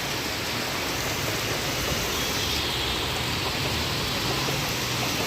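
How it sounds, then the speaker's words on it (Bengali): Heavy, unbroken rain pours down in Sylhet during days of flooding, a dense, even roar of hiss that holds at the same loudness throughout, with no pauses and no voices. "প্রচুর বৃষ্টি হচ্ছে, কিন্তু সকাল থেকে একটানা বৃষ্টি হচ্ছে"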